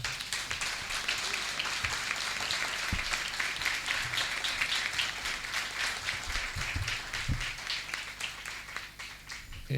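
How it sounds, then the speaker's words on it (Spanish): An audience in a cultural centre in Villa Gesell applauds to welcome a speaker. The clapping is dense and steady, lasts close to ten seconds, carries a few stray louder claps, and fades slightly at the end. "le brindamos un fuerte aplauso"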